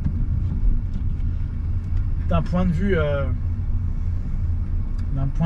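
A car engine drones and rumbles steadily throughout at close range, with someone speaking briefly over the road noise.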